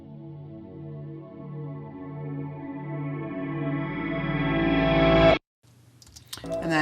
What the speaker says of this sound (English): made a reverse swell reverb, which is a really nice transitional effect